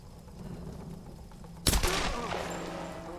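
A single loud gunshot from a video game cracks out midway through, trailing into a short echoing rumble over a low background hum.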